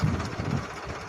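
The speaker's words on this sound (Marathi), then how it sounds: "झालं ट्रॅक्टर चालू" A low, steady tractor engine rumble chugs along close by, a heavy motor idling with a faint knocking pulse, with a seed drill attached for sowing.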